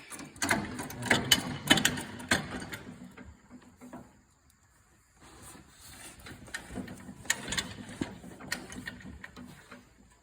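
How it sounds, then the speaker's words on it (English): A lawnmower wheel shaft with a half-moon keyway is turned by hand, giving close, irregular bursts of clicking, ratcheting and scraping metal, a pause of near quiet midway, then more rattling mechanical movement. "Let me turn the shaft so we can actually see what's going on here."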